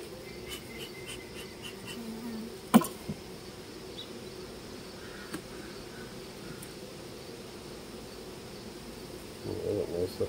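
Honey bees buzz faintly and continuously around an open hive being split, a low steady drone with a sharp knock partway through and a little rustling near the end.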